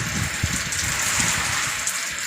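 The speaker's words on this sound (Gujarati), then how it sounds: "અમારા ગેરમાં ઘડીએ ને ઘડીએ વરસાદ આવ્યા જ કરે" Steady rain falls and patters on surfaces nearby, a constant broadband wash with scattered heavier drops and no voices.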